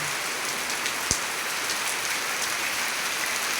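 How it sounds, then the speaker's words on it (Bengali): A torrential downpour hammers surfaces nearby in a constant broadband roar, with one sharp knock or drop hit about a second in and no one speaking. "অনেক বৃষ্টি হচ্ছে, ওদের পানি আসতেছে।"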